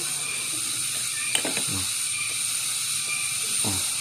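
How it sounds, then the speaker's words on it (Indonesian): A ratchet wrench tightening a bolt on a Honda Revo Absolute engine clicks in a few short bursts of rapid ratcheting, close up over a steady background hiss. "Kunci kita pentokin di sini dan kita putar sampai kencang."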